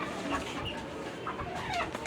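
Native desi chickens cluck on a small farm, several birds calling close by in short, uneven bursts over a steady background hum.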